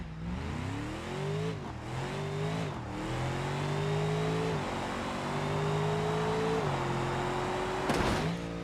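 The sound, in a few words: Mercedes car engine revving in a video game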